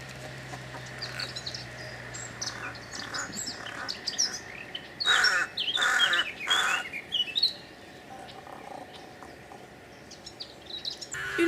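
A rook colony calls outdoors, with several harsh caws bursting out together in the middle over a constant wash of other bird chirps and distant background noise.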